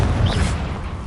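An explosive Confringo spell goes off in a Harry Potter video game played on PS4: a single loud, close boom with a brief crackling burst that quickly fades.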